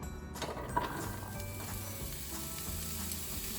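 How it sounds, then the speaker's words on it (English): Onion, carrots and garlic sizzle steadily in a hot pan, a close, continuous frying hiss with light clinks of stirring and no talking. "I'm going to go ahead and add the onion, carrots, and garlic"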